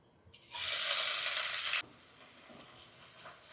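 Chopped onion hits hot mustard oil with whole garam masala, bursting into a loud hiss that holds about a second and a half, then drops sharply to a quieter, steady sizzle.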